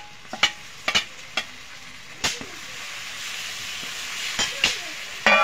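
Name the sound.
ginger, chilli, cumin and coriander paste frying with onion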